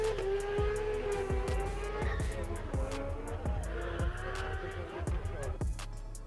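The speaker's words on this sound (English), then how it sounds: "Look at me, that's revving high." A 2JZ-engined car racing in a driving game revs high, with a sustained engine whine and sharp tire squeals, and someone talks over it.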